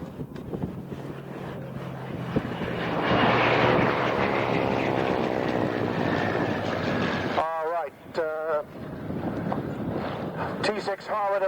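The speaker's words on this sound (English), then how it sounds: "T6 Harwood and the Hurricane, they're returning from a photo sortie." A T6 Harvard and a Hurricane returning at the Duxford airshow: a loud, steady propeller-engine drone with wind noise swells and holds for several seconds, then fades as a voice talks over the end.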